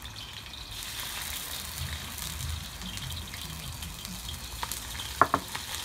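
A blended spice paste hits hot oil in a wok and fries with a soft, steady sizzle and faint stirring, then a few sharper scrapes or clinks near the end, close and without speech.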